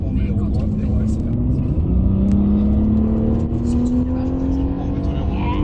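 Race car on a track circuit accelerating out of a bend, with a loud engine note climbing steadily in pitch over a constant road rumble, while a person talks over it.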